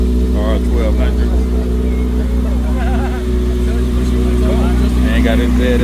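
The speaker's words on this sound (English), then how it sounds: "got his ZX6R running" A Kawasaki ZX6R motorcycle engine runs steadily at a bike night gathering, a constant droning hum that stays loud throughout beneath nearby people chatting.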